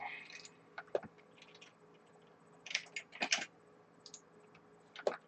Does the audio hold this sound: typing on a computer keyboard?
yes